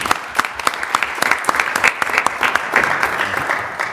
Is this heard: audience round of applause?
yes